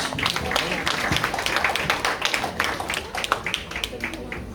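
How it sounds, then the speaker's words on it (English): Applause from an audience at an International Women's Day 2021 event, a steady stream of many hands clapping that carries on for several seconds, fairly close and even. "Give yourself a round of applause."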